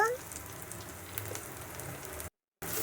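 Crab fries in a pan with turmeric and chili powder, a steady close sizzle with light stirring, briefly cut to silence near the end.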